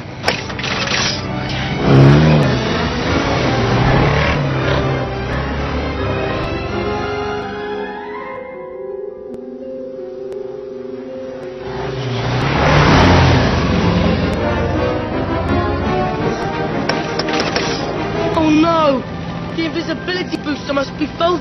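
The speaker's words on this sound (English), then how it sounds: "most muggles aren't accustomed to seeing a flying car" A flying car's engine revs and whirs with mechanical gear noises, surging loudly, then dropping away almost to nothing in the middle before roaring back, while people talk over it.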